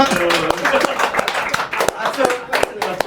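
An audience claps in a live show studio: a scattered patter of hand claps, close and fairly loud, with talking and voices mixed in.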